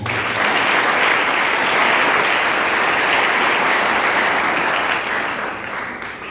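A church congregation applauds in a dense, loud, continuous wash of clapping that fills the room, tapering slightly toward the end.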